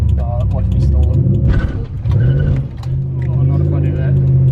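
A 1UZ V8 swapped into a Toyota Cressida with a faulty exhaust idles with a deep rumble, dips briefly as it nearly stalls, then picks back up, while people talk loudly over it.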